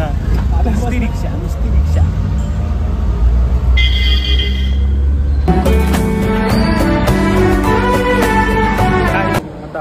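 Ride inside an auto rickshaw, with a constant low engine rumble and road noise, traffic sounds and clatter building in the second half, and voices talking in the background.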